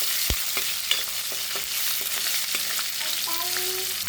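Onion, garlic and curry leaves sauté in a pan with a soft continuous sizzle, punctuated by scattered taps and scrapes of a spoon stirring against the metal.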